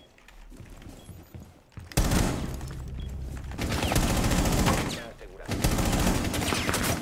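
Gunfire in Rainbow Six Siege, with loud bursts of shots from about two seconds on and dense crackling volleys that fill most of the clip.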